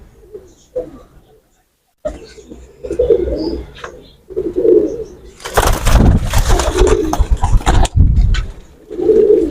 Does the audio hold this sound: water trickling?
no